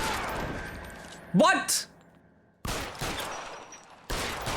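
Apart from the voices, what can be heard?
gunfire in the video game L.A. Noire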